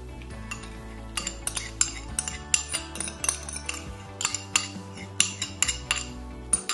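Gelatin being stirred into a cottage cheese cheesecake mixture, a rapid series of close clinks and taps of a utensil against a bowl over faint background hum, with no talking.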